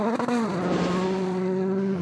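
Volkswagen rally car at Rally de Portugal 2013 powering through a corner, a sustained high engine note holding steady at full throttle, heard clearly from close by with no voices.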